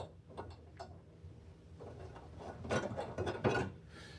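Bolts for a TV wall mount threaded in by hand, giving soft intermittent ratcheting, rubbing and ticking close by, growing a little busier and louder toward the end, with no talk.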